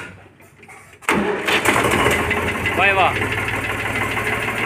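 After a quiet second, an Eicher 485 diesel tractor engine abruptly cranks and catches, settling into a loud, close rumbling idle while someone briefly speaks over it.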